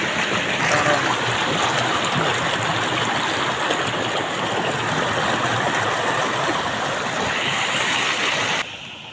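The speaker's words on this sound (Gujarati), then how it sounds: "સલંગ બે દિવસ વરસાદ પડ્યો જોરદાર પાણી જઈ રહ્યું છે" Floodwater rushes loudly and continuously across farm fields after two days of heavy rain, a dense roaring wash like a stream in spate that stays steady throughout and drops off slightly at the very end.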